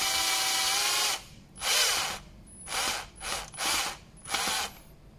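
A power tool drives bolts into a modified paint tank of a Multipro electric spray gun, starting with a steady whir, then four short ratcheting bursts with pauses between, close and loud, no talking.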